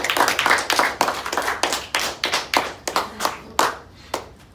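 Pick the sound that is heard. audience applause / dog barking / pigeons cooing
audience applause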